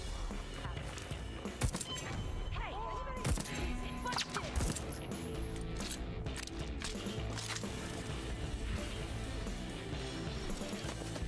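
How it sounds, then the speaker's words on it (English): Fireworks in the video game Deathloop pop and crackle in rapid bursts against a busy, continuous game soundscape. "Those fireworks are up to some stuff,"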